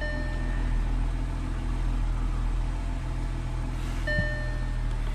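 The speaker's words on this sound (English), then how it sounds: "And now we have the vehicle running." An Audi Q7 SUV idling just after start-up sets a steady low engine hum inside the cabin, constant and unbroken, with a faint electronic tone appearing briefly at the start and near the end.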